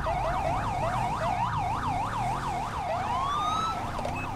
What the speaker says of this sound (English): he's running his lights and sirens the whole time right there